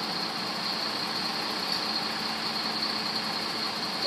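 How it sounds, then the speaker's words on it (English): A crane's diesel engine runs steadily while it lifts a concrete column on a structural repair site, a continuous mid-distance rumble with a constant hiss and no pauses. "you see the crane's got all of it now"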